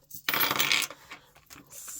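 Pound coins clatter and jingle as they drop onto a surface, a bright metallic burst followed by a few smaller scattered clinks, close and fairly loud.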